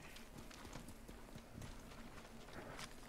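Horse hooves clip-clopping in a Ghost of Tsushima video game, a quiet irregular patter of several horses' steps over a soft background hum, faint and close.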